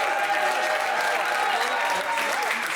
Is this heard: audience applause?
yes